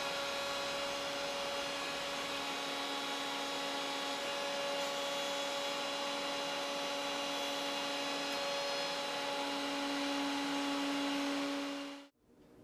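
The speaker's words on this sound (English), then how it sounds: "Hold the wood tight as you make this plunge cut. The router bit is pulling the wood towards the fence." Steady, loud whine of a router making a plunge cut into wood for picture frame molding, holding an even pitch for many seconds before cutting off abruptly as the motor stops; no talk.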